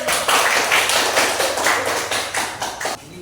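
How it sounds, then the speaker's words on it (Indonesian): A classroom of students gives a round of applause after a group presents its discussion in a school religion lesson: steady, fairly loud clapping from many hands that stops abruptly near the end. "tepuk tangan buat"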